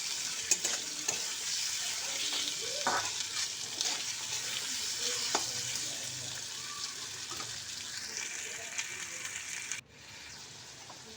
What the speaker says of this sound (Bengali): দিয়ে মশলাটাকে আমি আলুর সঙ্গে খুব ভালো করে কষিয়ে নেব।